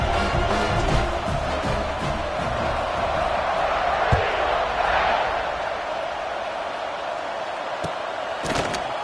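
A college football stadium crowd roars steadily before kickoff, a dense, loud wash of cheering with occasional sharp thuds, and an announcer talking over it.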